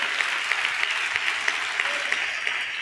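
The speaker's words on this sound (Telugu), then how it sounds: "చప్పట్లు కొడుతూ స్తోత్రాలు చెప్దాం" A church congregation claps steadily in praise, a dense, sustained wash of many hands at moderate loudness throughout, with no speech over it.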